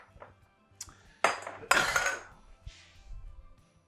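Chopped vegetables tipped into a pan alongside browned beef in a kitchen, giving a few sharp metallic clinks and two louder clattering drops with short sizzling rushes, close and clear with no talk.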